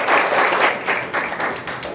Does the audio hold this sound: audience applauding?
yes